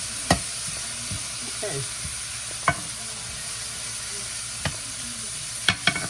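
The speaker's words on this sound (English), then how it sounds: "I'm going to lower the heat and just let them saute like that" Meatballs sauté in a pan for spaghetti in a home kitchen, a soft steady sizzle underneath with a few sharp clacks and scrapes of a utensil against the pan; someone says a brief word.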